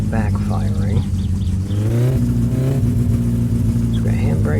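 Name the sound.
car engine backfiring in video game My Summer Car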